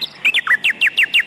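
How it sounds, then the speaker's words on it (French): Birds chirp on an answering machine recording: a quick series of about eight bright, descending tweets in a steady rhythm, close and clear, with no voices. "Donc ça, c'est les oiseaux."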